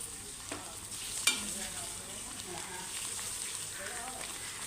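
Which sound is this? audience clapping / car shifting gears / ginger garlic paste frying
ginger garlic paste frying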